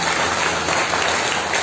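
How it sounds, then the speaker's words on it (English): A church congregation clapping together during a service. Dense, continuous applause fills the space at close range with no pauses. "Now can we clap to the King of Kings and the Lord of Lords?"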